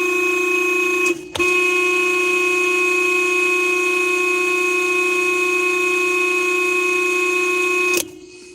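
A car horn blares in one long, loud, steady tone, cut briefly near the start and then held for several seconds before it stops, with no voices.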